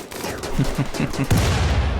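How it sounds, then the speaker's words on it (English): A grenade blast in the video game RimWorld sounds as a low, heavy burst about midway through, with rattling gunfire-like crackle going on before and after it. "there goes a grenade"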